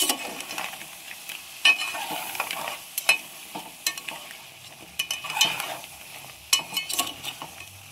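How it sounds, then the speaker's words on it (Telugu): Crab fry (peethala vepudu) being stirred in a pan just after chili powder goes in: repeated scraping and clattering stirs in uneven bursts over a soft, steady sizzle, close by, with no talking. "కారం వేసాక తిప్పుకుందాం ఒకసారి"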